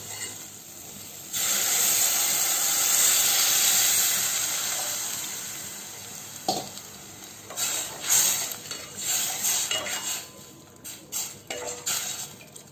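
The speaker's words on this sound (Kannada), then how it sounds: "ಈಗ ನಾವು ಹೆಸರು ಕಾಳಿನ ನೀರನ್ನು ಹಾಕ್ಕೊಳ್ಬೇಕು." Mung bean cooking water poured into a hot pan of fried tomato, giving a loud sustained hiss and steam burst that fades, followed by irregular clinks and scrapes of a utensil stirring against the pan.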